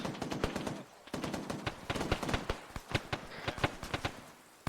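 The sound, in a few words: gunfire in video game Arma 3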